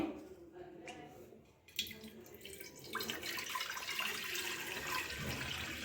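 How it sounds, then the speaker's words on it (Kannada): Water from a pot is poured into a pressure cooker on the stove, quiet splashing and gurgling rising after a brief clatter and continuing steadily, faint and close. "1 ಚಂಬು ನೀರು ಹಾಕಿ"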